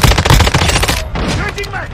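Rapid automatic gunfire in a Call of Duty Modern Warfare III deathmatch, loud and dense for the first second, then thinning into scattered shots under game effects.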